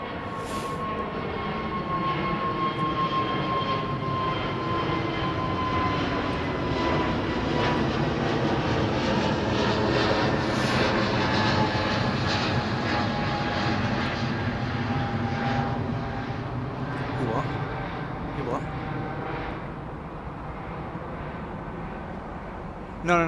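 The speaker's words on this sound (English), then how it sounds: "I saw two jets taxiing" Jet airliners taxi at London Heathrow Airport, a sustained engine whine and rumble with steady tonal lines that hold for a long stretch, swelling and then easing slightly toward the end.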